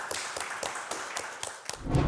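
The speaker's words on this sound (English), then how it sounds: "Welcome founder number 3 to the stage with a round of applause." A small live audience at a startup pitch event claps for a founder coming to the stage, a thin scatter of separate hand claps that builds into a louder rustle at the end.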